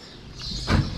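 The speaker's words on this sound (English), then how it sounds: "So just open that door up" A farm barn door swings open on a calf barn, a brief rolling, scraping rush that builds and peaks near the end of the second, close and moderately loud.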